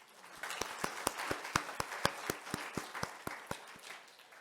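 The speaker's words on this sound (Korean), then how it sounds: "우리 한번 박수로 환영하겠습니다" Church congregation applauding to welcome guests, with a diffuse crowd clap underneath and sharp, evenly spaced claps from one nearby pair of hands standing out in a steady rhythm.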